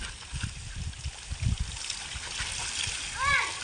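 Spring water splashes and patters steadily while people talk and cheer nearby, with a brief high whistle-like chirp near the end.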